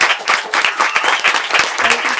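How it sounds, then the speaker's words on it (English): A bookstore audience gives a round of applause for author Heather McGhee after a book talk: dense, close clapping with sharp individual claps throughout and a faint voice creeping in near the end. "Can we please get a round of applause for Heather?"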